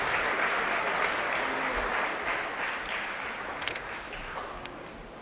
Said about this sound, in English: one more round of applause for our art awards recipients.